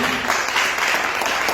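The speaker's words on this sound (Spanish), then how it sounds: "Le damos un aplauso para Jesús" Applause rises at the close of a church workshop on spiritual deliverance, a dense, steady clapping from a gathered congregation that fills the whole short moment without pause.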